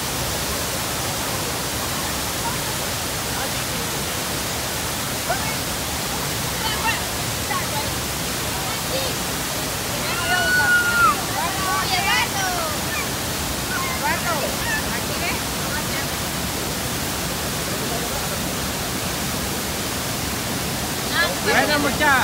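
Steady roar of the Panaluya waterfall at Río Hondo, Zacapa, Guatemala: a continuous broadband rush of falling water, loud and unbroken throughout, with a brief faint chirp partway through.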